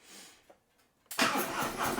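A 2024 Harley Davidson CVO Road Glide ST motorcycle engine starting: a short, quiet cranking catch, then a sudden loud burst into a rumbling idle that holds close and steady.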